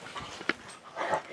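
A two-month-old puppy whimpers softly and snuffles nearby, giving a short high whine and then a longer whimper at low volume.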